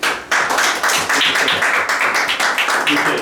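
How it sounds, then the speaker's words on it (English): Audience applause from a seated crowd welcoming a guest speaker, a dense burst of many hands clapping close and loud, sustained evenly for the whole stretch. "So please give him a big round of applause."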